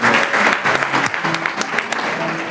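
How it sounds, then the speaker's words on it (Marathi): Audience applause at a devotional music gathering, a dense patter of clapping that holds steady for the whole moment, loud and close, with some background crowd noise mixed in. "एकदा जोरदार टाळ्या त्यांच्यासाठी."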